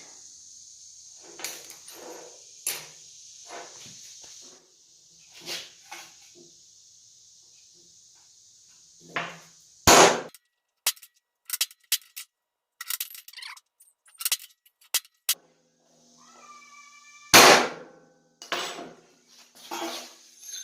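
A hammer strikes a center punch on a steel railroad clip being forged into a tomahawk, several sharp, ringing metallic hits spread unevenly among quieter handling clanks and shuffles, close by, with no talking.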